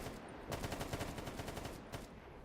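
Rapid automatic gunfire in the video game GAMMA rattles in a fast, steady burst lasting a couple of seconds, followed by a few more quick shots.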